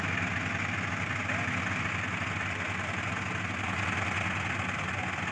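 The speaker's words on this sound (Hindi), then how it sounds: "स्टार्ट हो गया अर्जुन 605 है भाई, मॉडिफाइड ट्रैक्टर है।" A modified Arjun 605 tractor pulls a loaded trolley, its diesel engine chugging steadily and loudly up close with a low pulsing throb and no break.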